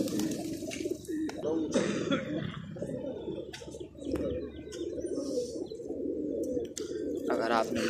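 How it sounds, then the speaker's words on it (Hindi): Pet pigeons coo steadily and close up, a low continuous murmur throughout, while someone talks over them and some brief sharper chirps and clicks break in. "माशाल्लाह बहुत ही प्यारे कबूतर हैं"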